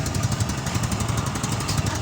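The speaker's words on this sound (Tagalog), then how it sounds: "So dito, ang umiingal dito ang kanyang tambutso." Exhaust of a Suzuki Smash 115 motorcycle with a hole in the pipe, a close, steady, loud rough rumble with rapid pulsing throughout.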